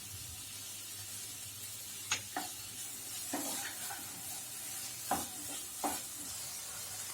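Vegetables softened in a pan with tomatoes and a little salt added are stirred over steady low sizzling, a handful of sharp scrapes and clinks of the utensil against the pan standing out.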